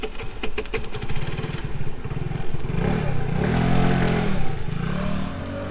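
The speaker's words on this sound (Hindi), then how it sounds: "डॉक्टर का पुराना स्कूटर थोड़ा धीरे चल रहा था।" An old scooter motor putters along a road at night, a steady engine drone with a rattling, uneven note that rises and falls gently throughout, with no talk.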